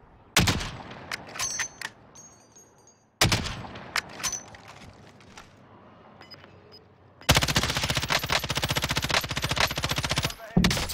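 Gunfire in Call of Duty Warzone: scattered single shots and short volleys early on, then a sustained rapid automatic burst of several seconds, loud and near, with a voice briefly audible in between.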